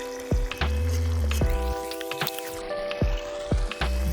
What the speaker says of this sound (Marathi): आता या स्टेजवर आपण लसूण अद्रकाचा पेस्ट घालणार आहोत। छान परतून घ्यावे